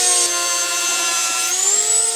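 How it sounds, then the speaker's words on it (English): Dremel rotary tool grinding down the trigger bar of a 203 rifle, a high steady whine that holds close and alone for a couple of seconds, its pitch rising slightly near the end. "I'm just gonna take a Dremel and just hit this down a little bit"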